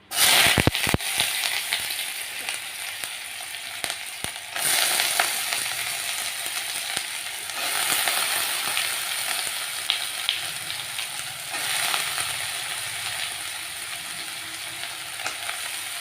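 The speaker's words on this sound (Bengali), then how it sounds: "কড়াই বসিয়ে দিয়েছি, আলু ভাজার জন্য তেল দিয়ে দিই।" Potatoes and onions frying in hot oil in a wok, a steady loud sizzle with bursts of crackle and occasional stirring scrapes throughout.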